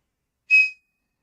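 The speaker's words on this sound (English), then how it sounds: "the telescreen let out a piercing whistle." A single short, shrill whistle from a telescreen sounds once, sharp and high-pitched, then cuts off into silence.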